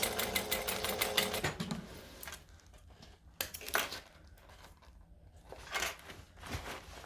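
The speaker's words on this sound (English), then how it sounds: "I'm just going to do all of the stitching first." A sewing machine stitches a handbag in bursts: a fast, steady run of needle strokes at first, then a quieter pause, with a few shorter runs and soft handling noises near the end.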